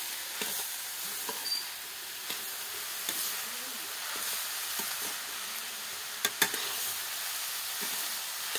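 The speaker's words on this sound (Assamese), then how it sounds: "সেইখিনি ভাজি আছোঁ।" Grated coconut frying in a kadai makes a soft, continuous sizzle and hiss. Periodic scraping stirs and a couple of sharper clacks from the utensil break through it, fairly close, with no talk.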